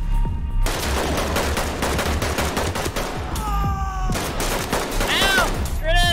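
Dense bursts of automatic gunfire from the video game Ready or Not, loud and close, fired in rapid volleys with short pauses between them, and a few faint sharp electronic tones mixed in.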